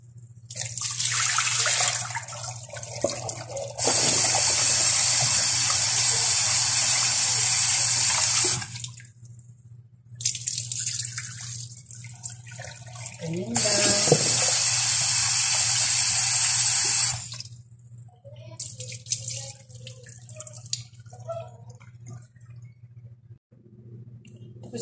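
Tap water runs into a sink for rinsing a new pot, coming in two long steady gushes separated by quieter pauses, loud and close.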